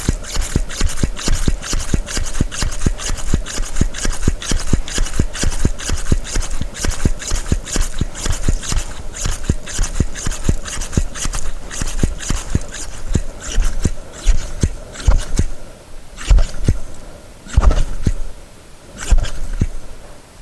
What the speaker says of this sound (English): you're going to go ahead and pump up the system to that max pressure that was listed on your cap